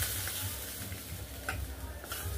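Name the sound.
sizzling tempering with asafoetida poured over potatoes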